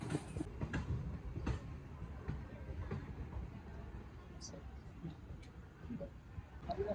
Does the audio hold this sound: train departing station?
yes